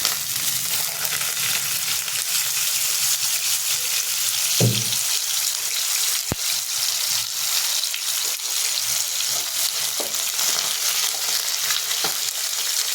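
Fenugreek seeds and long-cut green chilies crackle and hiss steadily in hot oil in a pan for a Bengali rohu fish curry, a continuous near sizzle with a couple of brief clinks and stirring knocks.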